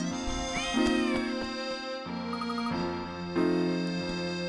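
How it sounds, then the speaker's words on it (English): A cat in the video game Professor Layton and the Last Specter gives a few short, clear meows over a sustained musical backdrop, close and distinct. "Ooh, cat. Meow. Hey, a kitty."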